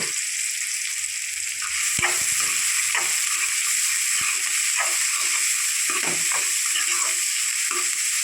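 Chopped onions frying in hot oil for a sesame chutney, a steady bright sizzle throughout with occasional stirring clinks and scrapes, close and loud.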